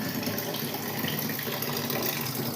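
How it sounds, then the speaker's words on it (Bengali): Tap water pouring steadily into a container, a constant close gushing and splashing that runs unbroken throughout. "এই যে জল ভরছি।"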